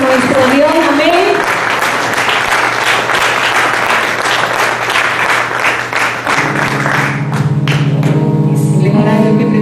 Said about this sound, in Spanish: un aplauso para el Rey